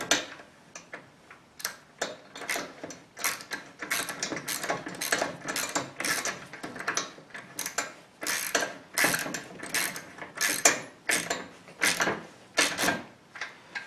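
Rapid ratcheting clicks from a wrench tightening a bolt during assembly of an XMark 7604 adjustable weight bench, in repeated close bursts with brief pauses between strokes.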